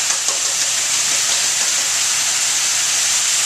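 Bite-sized sausage pieces with onions and garlic sizzle in a hot pan, a steady bright hiss that holds even and close throughout with no voices.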